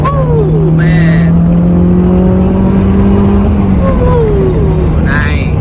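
Car accelerating hard after a shift into fourth gear, engine note climbing steadily in pitch, loud and close from inside the cabin, with brief tire or gear whines.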